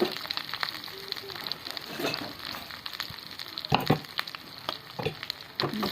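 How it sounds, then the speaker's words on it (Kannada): Onion, chopped eggplant and curry leaves frying in hot oil, crackling and sizzling up close with uneven pops and scraping stirs, fairly busy throughout. "ಇವಾಗ ಈರುಳ್ಳಿ ಹಾಕ್ತೀನಿ, ಜೊತೆಗೆ ಹೆಚ್ಚಿರ್ತಕ್ಕಂಥ ಬದ್ನಿಕಾಯಿ ಡೈರೆಕ್ಟ್ ಹಾಕ್ಬಿಡ್ತೀನಿ."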